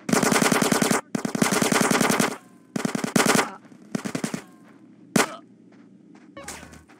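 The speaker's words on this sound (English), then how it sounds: "Get some suppressing fire in there." Automatic weapon fire in GTA San Andreas, several long loud bursts of rapid gunshots separated by short pauses, with a few single shots and quieter rattling later.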